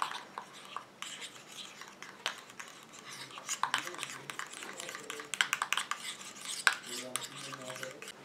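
A spoon stirs cosmetic night-cream ingredients, including dragon extract concentrate, in a small container, giving soft scraping and clinking taps against the sides, quiet and irregular, with faint background noise.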